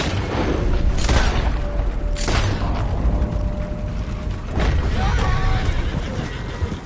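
Gunfire in Red Dead Redemption 2 during a standoff with United States Army men: a few loud booming shots spaced apart over a steady rumbling background, with a horse nearby.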